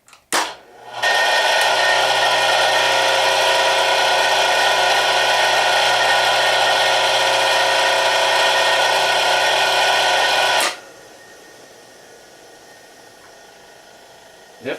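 A three-phase motor running on single-phase power after its starting capacitor is dropped out gives a steady, loud tonal hum and whine. It holds for about ten seconds, then cuts off sharply and leaves quiet background.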